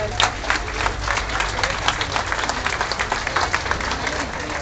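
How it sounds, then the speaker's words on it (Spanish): Sustained audience applause at a political organizations' gathering in Oaxaca, a dense, steady wash of many hands clapping from a large crowd, fairly loud and continuous with no distinct speech over it. "el maestro Carlos Iriarte Mercado, para que pida un fuerte aplauso."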